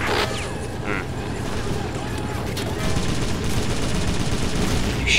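Gunfire in the Faces of War World War II strategy video game: dense, continuous battlefield shooting with overlapping bursts and mechanical clatter, loud throughout, while someone talks over it.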